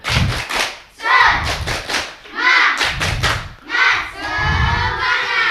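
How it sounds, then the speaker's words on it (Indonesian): An elementary school class chants and claps the rhythmic 'tepuk semangat' cheer together, loud bursts of group voices with sharp clap hits in a repeating pattern. "Ya, coba sama-sama supaya semangat. Tepuk semangat."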